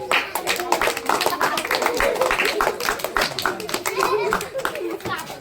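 A crowd at a street magic show claps in a quick, continuous patter of hand claps that runs under loud overlapping talk, close and fairly loud.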